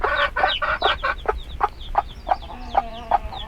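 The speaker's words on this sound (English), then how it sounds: "number 2's baby chicks are hatching" Hens cluck and young chicks peep in a run of short, close calls, mixed with soft farmyard noise, near a nest where five baby chicks have just hatched.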